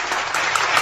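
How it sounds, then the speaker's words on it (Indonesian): A Sunday church congregation breaks into lively applause: a brief, dense wash of many hands clapping at once, steady and fairly loud, lasting under a second. "tepuk tangan dulu yang meriah"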